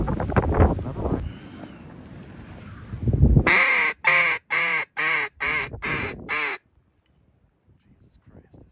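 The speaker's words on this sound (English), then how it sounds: "there's a bunch of mallards landed on the main channel" Mallard ducks landing on the water of a main river channel quack loudly in a run of about six sharp, evenly spaced calls, close by, after a windy, muffled stretch that carries faint voices, then near silence.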